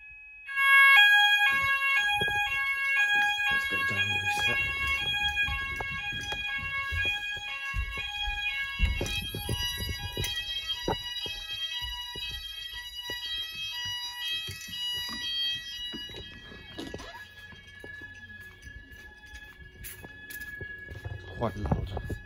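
Apollo XP95 Xpander fire alarm sounders in a house sound together, a repeating electronic two-tone warble with steady pulsing beeps, fairly loud and continuous, with someone talking quietly underneath before the tones stop.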